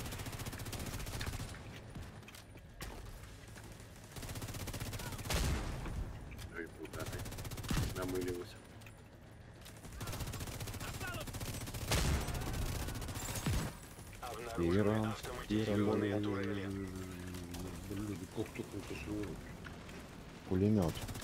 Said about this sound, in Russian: Пулемет.